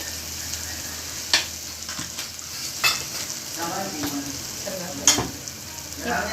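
Stirring and frying in a pan while making paya soup: a continuous soft sizzle with several sharp spoon scrapes and clinks against the pan at irregular intervals, close by, with no one speaking.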